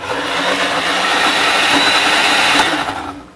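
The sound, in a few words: blender pureeing sauce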